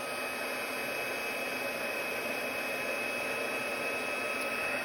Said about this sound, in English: I am going to now emboss this with the heat gun